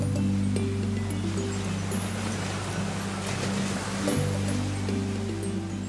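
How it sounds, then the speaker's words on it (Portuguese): Steady ocean surf washing continuously, with a low constant hum running beneath it and no voices. "ouvindo o som do mar"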